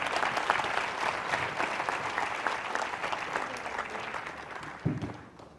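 An audience at a national quiz final gives the contestants a sustained round of applause, fairly dense clapping that tapers off at the end with a single soft thump.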